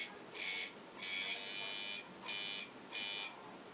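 A tuned machine buzzes in four separate runs, some short and one lasting about a second, with a bright, high, steady whine and quiet gaps between each burst.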